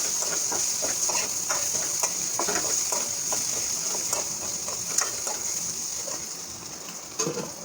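Potatoes and turmeric cook in a pan with a steady hiss and frequent light scraping stirs, close up, with a louder clatter near the end.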